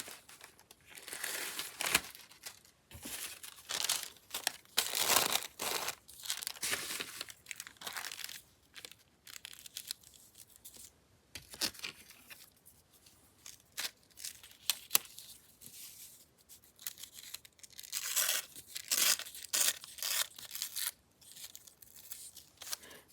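Sewing tissue being torn and crinkled by hand over a fragile old journal page, a run of dry papery rips and rustles coming in bursts, close and moderately loud, with no talking.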